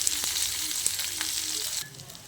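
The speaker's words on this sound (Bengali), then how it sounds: "পেঁয়াজটাকে ভালো করে ভেজে নেব" Onion frying in oil for a ridge gourd and prawn curry, a steady bright sizzle with a few soft stirring clinks, holding throughout and easing off near the end, with no talking.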